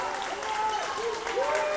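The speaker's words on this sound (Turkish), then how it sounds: "Alkış Poyraz mücadelesine." Spectators applaud at a youth U14 basketball game in an indoor arena, a steady spatter of clapping from the crowd beneath a commentator's voice.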